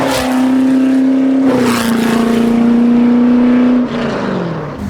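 Home-built Ford GT40 engine holding a loud, steady droning tone while driving on the road, close and continuous, with a gear-change dip partway through and a drop in pitch near the end.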